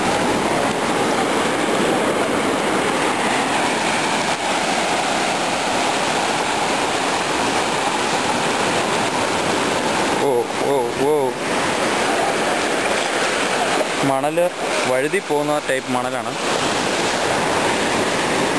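Sea waves wash steadily onto Thalikulam beach as a continuous broad roar of surf, close and loud throughout, with people talking briefly over it in the middle.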